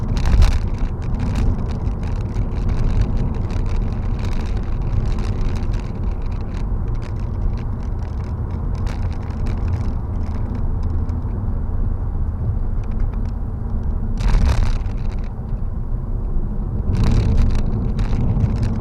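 A 2015 Honda Civic driving on the road, heard from inside the cabin: a steady low engine and tyre rumble with road and wind noise, continuous and fairly loud, with a couple of brief sharper bumps or swells along the way.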